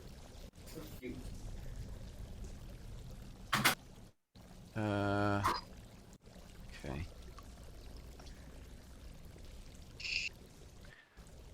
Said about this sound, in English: Deandra's happily splashing about in the water.